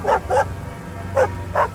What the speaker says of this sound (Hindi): क्यों भौंक रहे हो?